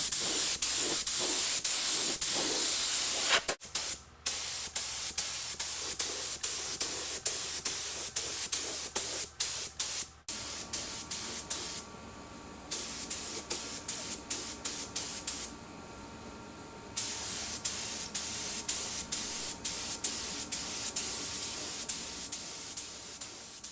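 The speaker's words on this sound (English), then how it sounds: "So let's get some sealer mixed up, get this thing all black and ready for the color." A spray gun lays down black sealer paint inside a garage bay, giving a steady close hiss with repeated short bursts and brief pauses between passes.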